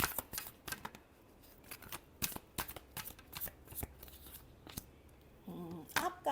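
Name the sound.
shuffling tarot cards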